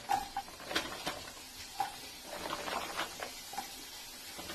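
Onions and carrots go into hot oil in a pan, giving a soft crackling sizzle broken by scattered clicks and light scraping taps of cooking utensils, moderately quiet and close.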